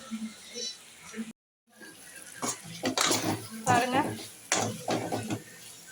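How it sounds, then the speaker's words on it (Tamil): Tomato and onion sautéing with fennel seeds in a pan, a utensil scraping and clattering against the metal in bursts while someone talks over the cooking. "அந்த தக்காளி வெங்காயத்தை வணக்கிறேன்"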